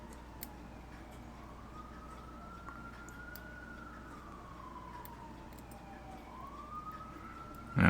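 A distant siren wails, rising and falling slowly over steady low background hum, with a brief louder thump at the very end.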